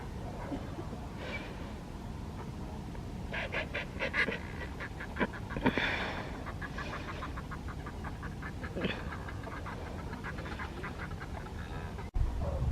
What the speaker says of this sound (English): They make a really loud noise, sort of like a chirping